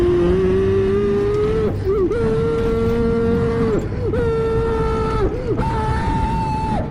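A 1991 Acura Integra engine runs with a newly installed exhaust, giving a loud, close, steady drone that swells and dips as the revs rise and fall, under continuous raspy noise.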